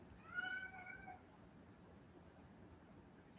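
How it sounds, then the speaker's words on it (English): A house cat gives one drawn-out, crying meow early on, clear but not loud, followed by near silence with a brief faint noise at the very end. "Do you guys hear my cat?"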